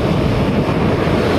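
Rough ocean waves crashing on a beach, a loud, dense, continuous roar of surf with wind buffeting the microphone and no speech.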